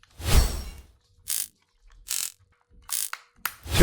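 Screws being removed from a PS5 controller: several short separate ratcheting clicks and scrapes of a small screwdriver, close and fairly loud with quiet gaps between them.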